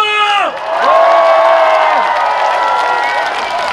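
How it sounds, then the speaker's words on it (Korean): A large crowd at a shipbuilding and maritime festival in Ulsan claps and cheers loudly, a sustained roar rising as a voice on a sound system trails off. "다시 한번 다 같이 이 축제의 번영을 위해서 박수와 함성을!"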